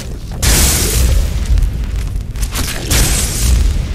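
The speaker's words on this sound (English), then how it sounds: "Oh shit, it exploded way over there." A pot blown up in the video game Skyrim, heavy booming explosion rumble rolling on for several seconds with repeated low bursts, no talk over it.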